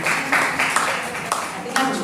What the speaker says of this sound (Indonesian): Oh boleh tepuk tangan, boleh.